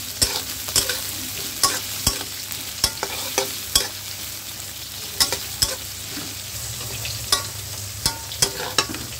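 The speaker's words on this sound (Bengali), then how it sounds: "আর এখন পেঁয়াজ রসুন এগুলো একটু ভেজে নিব কিছুক্ষণ।" Onion and garlic frying in mustard oil in a pan, a soft continuous sizzle punctuated by sharp scraping taps of a spatula stirring at irregular intervals, heard up close with no talk.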